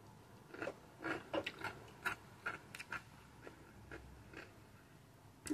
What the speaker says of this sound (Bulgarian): Колко ясно се чува, че корнишоните хрупкат.